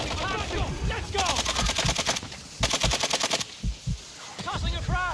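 A first-person shooter video game fires rapid automatic gunfire in two sustained bursts, loud and close, mixed with game effects and sounds of battle, as players talk over it.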